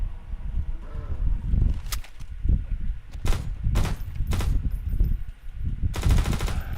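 Modded SMG fire in a video game, dense rattling bursts and sharp separate shots, loud and close, with heavy low thumps between them and no talking.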